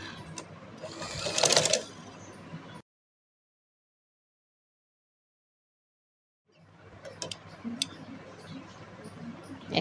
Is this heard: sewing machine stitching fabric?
yes